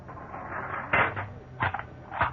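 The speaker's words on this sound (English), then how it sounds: "They herded me into one of the cells and locked the door." Jail cell door locking in an old radio drama, a few sharp metallic clunks and rattles spread over a couple of seconds, close and moderately loud.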